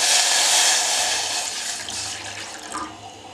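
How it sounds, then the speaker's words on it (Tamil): Water pours into a cooking pot on a stove for ginger coriander tea, a loud continuous rushing splash that gradually softens as the pot fills, with no talk. "இப்போ எடுத்து வச்சுருக்க தண்ணியை ஊற்றுறேன்."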